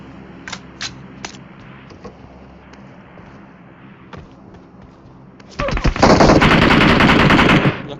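Gunfire in PUBG Mobile during a squad match on an 8th-generation iPad: scattered faint shots early on, then a loud, sustained burst of rapid automatic fire lasting about two seconds.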